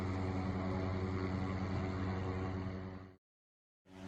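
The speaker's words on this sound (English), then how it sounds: "The helicopter in these clips is an MD-500, or MD-500 variant." An MD-500 helicopter flies overhead at night near a crowd, a steady loud rotor-and-engine drone that holds for about three seconds, cuts out abruptly, then returns.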